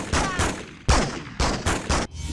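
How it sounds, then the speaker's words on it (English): Gunfire in the Spider-Man 2 video game: six sharp shots in irregular pairs, each with a loud crack and short ringing decay, close and prominent. "I just heard gunshots."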